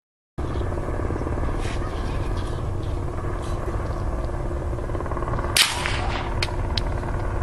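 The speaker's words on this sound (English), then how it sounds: "the distinct sound of a helicopter circling can be heard" A helicopter circles overhead near a campsite, its steady rotor drone loud and continuous throughout, with a brief sharp crack partway through.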